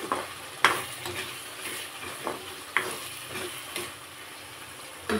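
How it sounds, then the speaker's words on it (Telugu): Paneer curry masala frying in oil in a pan, with a steady soft sizzle and occasional louder stirring scrapes and clinks spaced through the clip, close and alone without talk. "ఇది బాగా ఇప్పుడు ఆయిల్ పైకి వచ్చే వరకు వేగాలి, ఒక 10 మినిట్స్."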